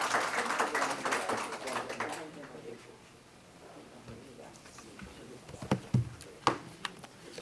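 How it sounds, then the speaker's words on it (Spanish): Brief audience applause welcoming a speaker to a lecture on Martí, fairly soft and fading out after about two seconds, followed by a quiet room with scattered taps and shuffles. "vamos a recibirlo con un aplauso"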